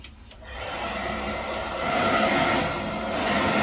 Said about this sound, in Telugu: బ్లో డ్రై పెట్టుకోవాలి.